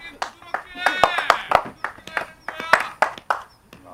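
Crowd clapping in quick rhythmic bursts at the final of a 2014 weekday VIP league match, with spectators chanting and cheering over the claps, close and lively.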